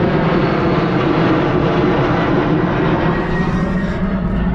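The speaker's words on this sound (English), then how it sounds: "but look at the plane." An airplane taking off gives a loud, steady, broad roar that holds for several seconds without any talk over it.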